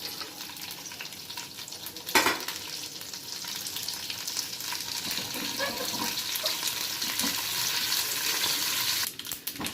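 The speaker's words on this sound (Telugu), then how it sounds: "కొంచెం మినప్పప్పు ఎండుమిర్చి ఇంకా కరివేపాకు అన్నీ వేసి వేయించుకున్నాను" Urad dal, chana dal, dried red chillies and curry leaves frying in hot oil for a tempering, a dense crackling sizzle with a loud spurt near the start and faint stirring, close and steady.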